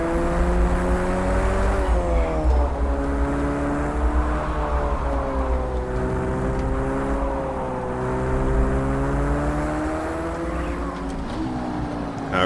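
A race car engine in the Project CARS 2 racing game, likely an Audi R8 LMS, roars through a lap, its loud, continuous whine rising and dropping with repeated gear shifts and revs.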